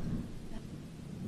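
A thunderstorm rumbles as a low, rolling drone, with a hiss that suggests rain underneath and no clear talk.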